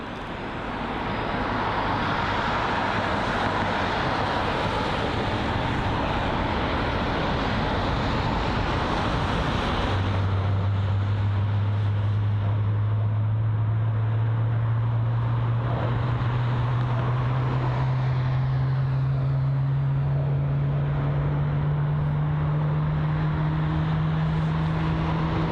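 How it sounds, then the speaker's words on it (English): An Air Canada Boeing 777-300 lands at London Heathrow, starting as a broad roar of engines and wind and growing into a loud, rising engine whine that holds to the end. "the Air Canada Boeing 777 is really close to the landing"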